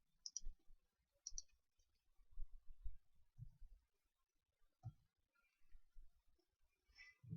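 Keys on a computer keyboard are pressed during 3D modeling work, giving a few sharp, close clicks scattered through a quiet stretch, along with light desk and mouse handling noise.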